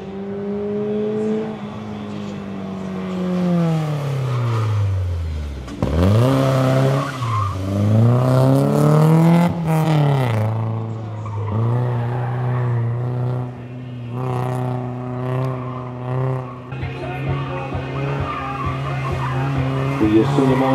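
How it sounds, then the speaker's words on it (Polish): A BMW 318is E30 rally car with a 1.8-litre engine revs hard and slides through a special stage, the engine note climbing and dropping through gear changes amid tyre scrubbing and gravel noise, loud and close. "jadą BMW 318 i pojemność tego samochodu to"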